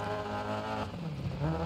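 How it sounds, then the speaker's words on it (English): Engine of a rally car in Dirt Rally 2.0 running rough and skipping as it misfires, loud and continuous with harmonic drone and uneven revs throughout. "You can hear the engine right skipping."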